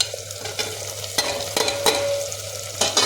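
Mutton keema frying in oil with salt, turmeric and coriander powder is stirred steadily, a loud close sizzle with repeated scraping strokes of the spoon across the pan.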